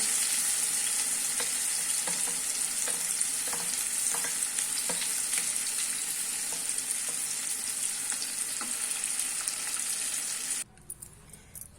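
Cucumber pieces being stirred into a peanut chutney, a steady broadband sizzle-like mixing texture with scattered soft clicks of a spoon against the bowl, close and continuous, ending abruptly near the end.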